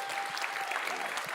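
Quiet applause from a small audience at a farmers' talk during the Sundance Film Festival, a soft, even patter of clapping with a faint voice mixed in, brief and somewhat distant.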